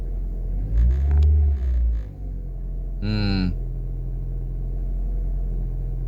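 A Ford Focus Mk1 engine idles, then revs up briefly as the throttle is pressed and falls back, followed by a short, sharp rising whine before the idle resumes, with no speech.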